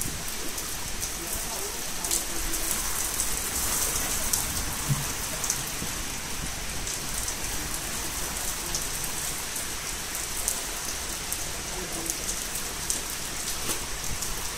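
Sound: rain falling during a thunderstorm in Berlin

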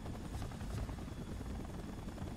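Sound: helicopter in Spider-Man 3 video game

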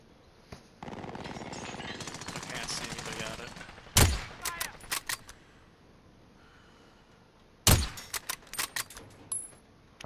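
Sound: gunfire in a video game

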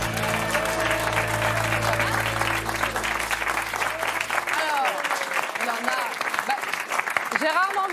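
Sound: audience applause

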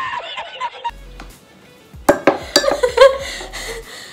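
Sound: spoon scraping hard coconut oil into a bowl

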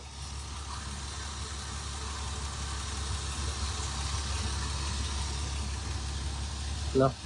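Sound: car engine idling

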